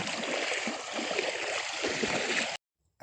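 A river near Santa Ines on the Kinabuan Falls trail rushes and gurgles steadily up close, then cuts off abruptly into silence near the end.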